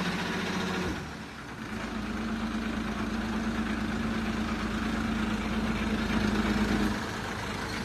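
A used 2018 Kubota L5018VN tractor engine idles nearby in a steady, low, continuous rumble that holds even throughout, with no talking over it.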